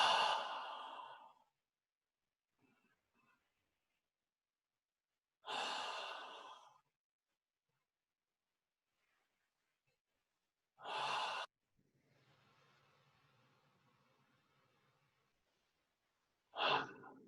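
Deep breaths during a standing meditation exercise: four loud, breathy exhalations spaced several seconds apart, each lasting about a second, with near silence and faint rustling in between.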